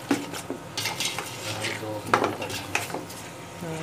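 Spices being mixed into beef in a metal pot for yakhni pulao: repeated scraping and clinking of a spoon against the pot, close and fairly loud, with a brief sizzle and no talking.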